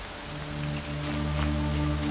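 Steady rain in the video game Horizon Zero Dawn patters continuously over a low droning hum, fairly close and even in loudness.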